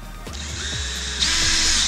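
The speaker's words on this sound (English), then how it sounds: "now we're going to put some screws in to hold this vise in place." A power drill drives screws through a vise into wood, its motor whining steadily at close range for about two seconds and rising in pitch and loudness near the end as the screw seats.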